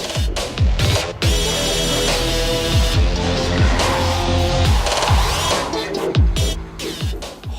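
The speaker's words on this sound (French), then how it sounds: "Drift zalig." Engine roar from a 2018 Aston Martin DB11 being drifted, with repeated revving surges and shifting pitches carrying loudly and continuously throughout, close and dominant.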